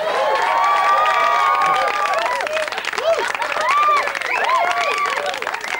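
A television studio audience applauds and cheers as a guest named Danny walks on. Clapping runs under bright, wavering whistles and voices, and the whole mix is loud and lively.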